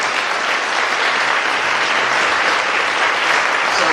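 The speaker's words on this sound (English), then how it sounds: "Another round of applause," Steady, loud applause from an audience at a school board of education meeting, many hands clapping evenly for about four seconds with no voices over it.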